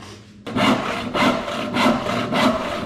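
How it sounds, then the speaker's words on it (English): Hand saw cutting through a pine board about 1¼ inches thick, loud close rhythmic strokes repeating roughly twice per second with no talking. "To finish the cut, I tilt it up and finish sawing."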